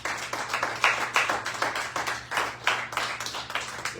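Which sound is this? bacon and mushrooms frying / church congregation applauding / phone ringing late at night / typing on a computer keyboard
church congregation applauding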